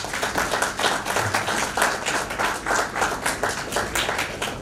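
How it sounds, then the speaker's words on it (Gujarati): An audience claps to welcome a speaker to the stage at a lecture, the applause rising and falling in uneven waves of individual hand claps, moderately loud and with no speech. "આપણે ભરતભાઈને તાળીથી બધાવીશું"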